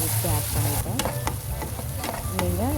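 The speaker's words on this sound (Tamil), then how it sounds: "இந்த பட்டு வாசம் போகிற அளவுக்கு நல்லா நம்ம இதை எல்லாத்தையுமே நல்லா வணக்கிக்கலாம்" Ground masala for hotel-style chicken liver pepper fry sautés and sizzles steadily in a pan, with a continuous hiss broken by the scrape and clink of stirring throughout.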